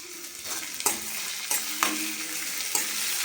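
Green chili and garlic paste being stirred into potatoes frying in a pan, a steady close sizzle punctuated by four or five sharp scrapes of the spoon.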